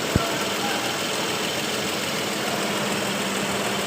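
A Toyota 1GR-FE 4.0L V6 idles steadily in a repair shop after an overhaul, a constant engine hum and faint light ticking running throughout, with one brief sharp click near the start and no talk.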